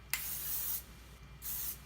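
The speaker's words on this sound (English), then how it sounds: "Said to spray it all over your hair and then spray on your hands" Two short bursts of hair spray misted onto clean hair and hands, each a soft, steady hiss lasting under a second with a brief pause between, close and fairly quiet with no talking.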